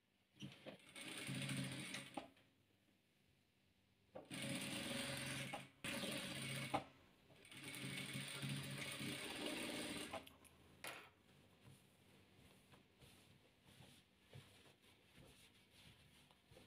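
Sewing machine stitching two rows of patchwork together, in several fast whirring runs of steady needle clatter broken by short pauses, close and clear, then fading to quiet handling noises with no speech.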